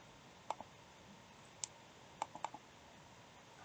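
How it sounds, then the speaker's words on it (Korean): A computer mouse clicks the browse button with a few quiet, sharp clicks, some in quick pairs, set against a faint steady hiss in a quiet room. "찾아보기 버튼을 눌러서"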